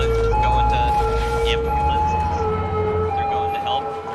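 Ambulance sirens from the city-building game Cities: Skylines wail loud and steady with sustained wavering tones over a low hum, while a person talks throughout.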